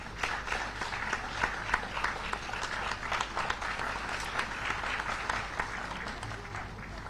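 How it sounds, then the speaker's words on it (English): An audience at a memorial debate attended by the Vice President applauds, with steady, dense clapping from a crowd for several seconds in a large hall. "Can we have a huge round of applause?"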